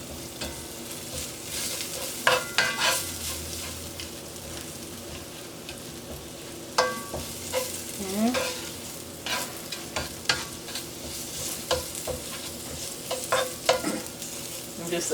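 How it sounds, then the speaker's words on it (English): Vegan Beyond sausage crushed and stirred in a frying pan, a steady soft sizzle with repeated scraping and tapping of a utensil against the pan at irregular intervals, close and moderately quiet. "just gonna crush this up and just cook it for about another minute and a half"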